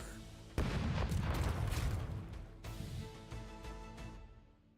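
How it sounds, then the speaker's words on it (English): Heavy pirate-ship cannon blasts in the video game Rogue Waters boom in succession, a loud thunderous volley with rumbling low end, followed by another salvo and a fading echoing tail. "Let's hear those cannons roar."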